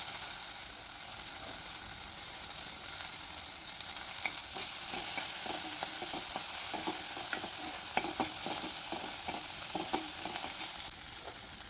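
Chopped tomatoes are sautéed in a pan with asafoetida and turmeric for a drumstick dal curry. A steady sizzle and frying hiss fills the clip, close up, with scattered light stirring clicks and no talking.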